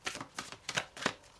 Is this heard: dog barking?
no